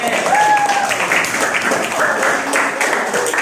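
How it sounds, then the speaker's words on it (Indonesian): Classroom applause for a student group after a static electricity presentation, a dense steady patter of many hands clapping close by, with a voice briefly audible over it. "kasih tepuk tangan untuk kelompok B"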